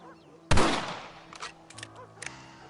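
A single loud rifle shot fired in the Western video game Red Dead Redemption, a sharp close blast with a trailing echo, followed by a few faint clicks and small knocks.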